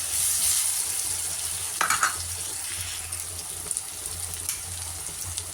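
Mutton masala frying in a pan for a village-style mutton fry, a steady sizzle with scraping stir strokes and small clinks, fairly close and continuous with no talking.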